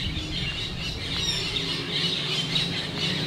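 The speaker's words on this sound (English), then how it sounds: "it's funny that the birds are going off" Several birds squawk and chirp repeatedly in the background, a busy, moderately loud chorus with no talking.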